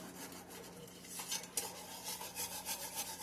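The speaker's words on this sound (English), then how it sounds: "I'm just stirring." Gravy stirred in a pan on rising heat, a soft scraping and swishing that runs steadily with small metallic clinks, close and quiet with no talk.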